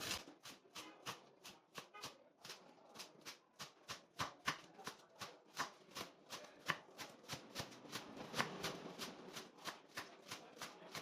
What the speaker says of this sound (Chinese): 香葱也是把它切细，切成细粒状